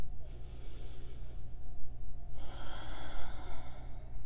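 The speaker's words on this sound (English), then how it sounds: "Breathing in and out through your nose." A person breathes slowly in and out through the nose during a relaxation routine, with a soft inhale followed by a louder, longer exhale, close and alone.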